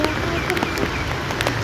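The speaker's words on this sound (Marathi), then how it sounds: "पाऊस, जबरदस्त पाऊस चालू आहे." Heavy monsoon rain pours steadily in a garden setting, producing a dense, continuous patter with scattered sharper drop impacts and no pauses.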